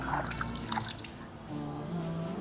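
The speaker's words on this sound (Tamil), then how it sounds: "தண்ணி எடுத்து முன் கைகளை கழுவுவாங்க" Water is poured and splashes over hands during wudhu washing, a close, faint trickle and dribble with a few drips under quiet background noise.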